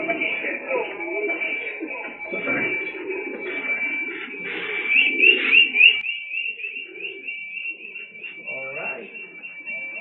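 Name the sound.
racing pigeons cooing on arrival at loft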